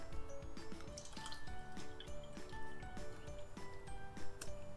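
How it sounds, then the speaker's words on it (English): Water poured into a row of cups for a kids' science experiment, giving a soft, continuous trickle with scattered drips and clinks under steady background tones. "I'm going to fill up every other cup with water."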